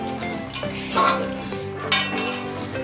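Potatoes are stirred with added sugar in a pan while sukto is cooked, giving a few clear clinks and scrapes of a utensil against the pan over a low background hum, with no talking.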